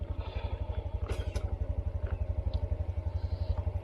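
A 2022 Honda CT125 motorcycle rides along a trail on Manitoulin, its small single-cylinder engine thumping in a fast, steady pulse, close and loud, with occasional clatter and wind noise over it.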